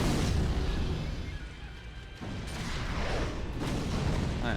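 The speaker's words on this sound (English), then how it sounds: "Explosions out of nowhere." Distant explosions in Sekiro: Shadows Die Twice give a couple of deep, muffled booms over a dense rumbling background, far off but heavy.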